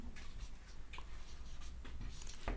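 Chalk or marker scratching across a board during a Hindi spelling lesson, a few short strokes close by and fairly quiet, with no talking.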